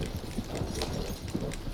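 Horse hooves clip-clopping steadily in Red Dead Redemption 2 as a horse pulls a large trader wagon, a quiet continuous patter under a noisy bed of game ambience.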